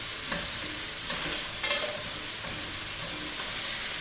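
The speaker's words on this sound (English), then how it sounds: "I'm going to brown it on all sides." Lamb meat browns in a hot pan, giving a steady close sizzle with light stirring and scraping noises throughout, and no voices.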